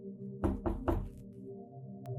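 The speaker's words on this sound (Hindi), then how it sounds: "दरवाजे पर किसी ने नॉक किया।" Three loud knocks on a door land close together in a tense Hindi horror story scene, heard over a steady low rumble of thunder and rain with no talking.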